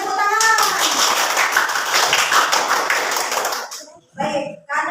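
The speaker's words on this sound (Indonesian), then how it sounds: "Ya, semuanya tepuk tangan." Schoolchildren in a classroom clap their hands in a burst of quick, uneven claps lasting about three seconds, with voices talking before and after the clapping.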